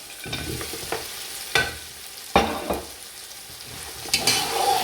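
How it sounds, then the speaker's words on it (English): Lamb meat goes into a pot of cooked tomatoes and sizzles steadily, with spoon stirs and several sharp clacks against the pot. "So the tomatoes are done now. I'm just gonna add the meat."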